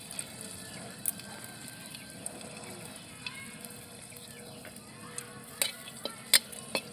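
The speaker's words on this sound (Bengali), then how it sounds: "তেলটা গরম হয়ে গেছে। আমি এর মধ্যে একটা গোটা শুকনো লঙ্কা দিয়ে দিলাম।" A whole dried chili sizzles in hot oil in a wok, giving a faint, steady frying hiss with scattered small pops and crackles that grow a little busier toward the end.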